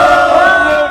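Participants at an emergency Democratic Party protest press conference in Daegu let out a brief, loud, close burst of massed shouting and cheering.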